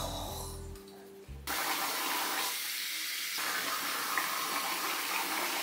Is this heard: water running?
yes